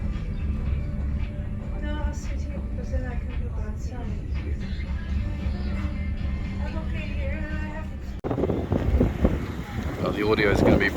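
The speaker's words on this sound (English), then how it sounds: "The audio is going to be pretty windy" Heavy wind buffeting a microphone at the Cook stop of the Indian Pacific train on the Nullarbor, a constant loud low roar with gusts, with muffled voices faintly beneath.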